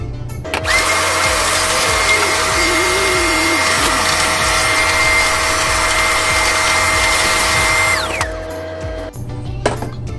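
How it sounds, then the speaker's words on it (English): A vacuum cleaner starts, roars steadily at close range for several seconds with a shifting whine as it sucks lint from a Speed Queen dryer, then shuts off. "I'm gonna vacuum it out now and call it a day."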